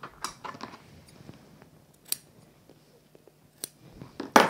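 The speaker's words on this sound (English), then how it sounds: "I can always snip that lining a little bit more." Scissors snipping a fabric lining, with a series of quiet, close, irregular snips and small clicks of the blades at a moderate pace.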